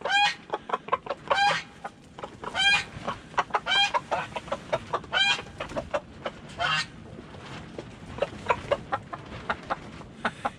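Several Blue Shamo/Ga Noi hens cluck and chatter excitedly over a treat, with repeated rapid bursts of close, fairly loud calls and shorter clucks between them.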